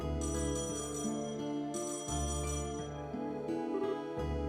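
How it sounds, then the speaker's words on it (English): A telephone rings after a number is dialed in the video game Trails in the Sky SC, a repeating electronic ring in steady bursts over soft background game music, with no voices. "Taita dialed in a phone number."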